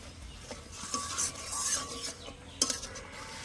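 A spice paste of ground melon seeds, poppy seeds and cashew is stir-fried for a mouri katla fish curry, with metal spoon scrapes and stirring against the pan over a soft, steady sizzle.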